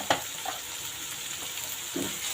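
A ground masala with crushed red chilli sizzles steadily in a pan for aloo matar salan, with a few soft stirring knocks over the continuous fry.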